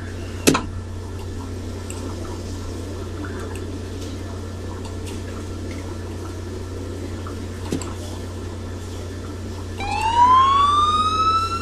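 An ambulance siren from the Emergency 4 video game rises near the end over a steady low engine hum, preceded by a couple of sharp clicks in an otherwise quiet game scene.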